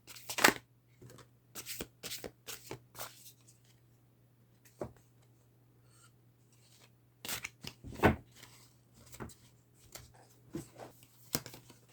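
Tarot-style cards are shuffled by hand for a card reading, giving repeated crisp riffles and slides in uneven bursts separated by quiet gaps, close and clear over a steady low hum.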